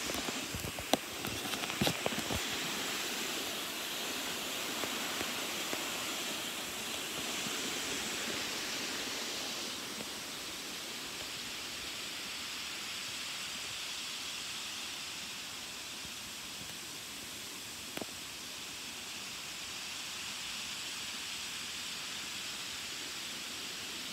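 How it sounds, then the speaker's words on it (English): A mountain waterfall roaring steadily on a hiking trail, a dense broadband rush that holds at a constant level throughout, with a few faint knocks near the start. "I instead decided to go further up the trail, hoping that I could find this waterfall."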